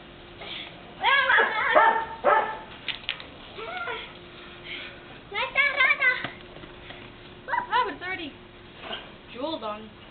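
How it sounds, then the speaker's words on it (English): A dog yips and barks in short playful bursts while playing with a ball, mixed with whimpering-like cries and people talking nearby at home. "Let the dog play with it."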